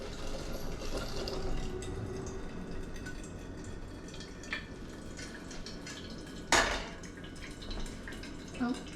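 Water pours into the top of a vintage 1940s West Bend Kwik Drip coffee maker, a soft steady trickle with a brief louder splash and clatter near the end, heard close with no talk.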